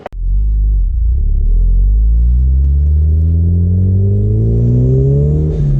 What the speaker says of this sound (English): I'm just gonna take the top off here and go for a quick drive and see how this works.